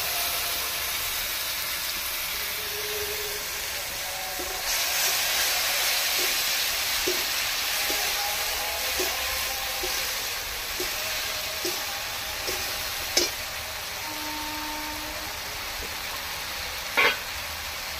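Tomato paste sizzling in a frying pan, a steady soft hiss of frying with occasional faint clicks and stirring taps, fairly quiet and without talk.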